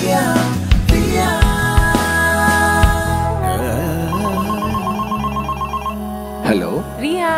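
Telephone ringtone ringing as a melodic electronic tune, bright repeating tones layered over a sustained musical backdrop, loud and close.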